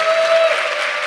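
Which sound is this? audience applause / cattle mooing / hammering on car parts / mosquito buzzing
audience applause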